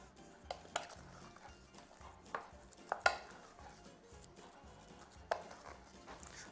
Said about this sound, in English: I'm then going to add the chopped kale. And then I'm just going to mix that together